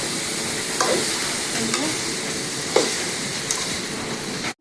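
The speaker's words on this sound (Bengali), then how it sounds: "পেঁপেটা একটু হাঁসা তরকারি একটু আলু দিলাম, টমাটো দিব, দিয়ে ভাজি করলে ভালোই লাগবে।" Papaya and potato frying in a pan give a steady sizzle, broken by a few scraping stirs of a spatula at irregular moments, ending with an abrupt knock.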